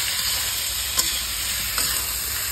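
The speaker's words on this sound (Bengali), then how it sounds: "ভালো করে কষে নিয়েছি" Pomfret fish curry with spices being sautéed in a pan makes a loud, even sizzle, broken by two brief scraping stirs, with no one talking.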